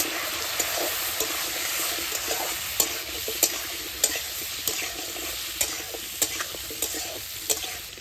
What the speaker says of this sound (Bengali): গরম হয়ে গেছে, আলুগুলি ভেজে নেব।